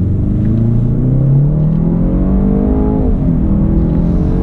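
A Jaguar E-Pace SUV engine in race mode revs up close, its pitch climbing steadily as it accelerates, then dipping briefly and rising again, loud and throaty with no talking.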